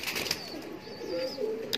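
A large female Ferozpuri pigeon coos softly and close by in a low, brief murmur, with faint rustling around it.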